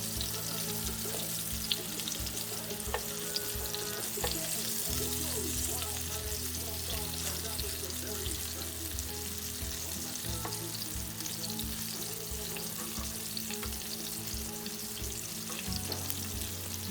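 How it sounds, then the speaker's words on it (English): Coral trout sizzling steadily in a hot frying pan, a dense, continuous crackle with a low hum running underneath throughout. "Flipping the fish now."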